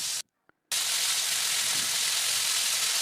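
Fish frying in a pan gives a steady, loud sizzling hiss, broken by a brief moment of near silence before the crackle resumes.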